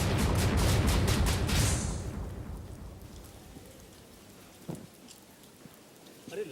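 Heavy rain pours steadily at night, loud and dense, then eases to a softer patter with a brief knock partway through.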